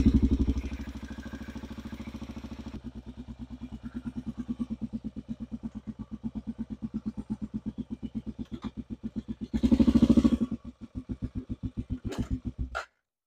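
A Honda Rincon 650 ATV engine fires up and runs with a steady rhythmic idle, close and fairly loud, with a few revs and a louder burst near the end before it cuts off abruptly.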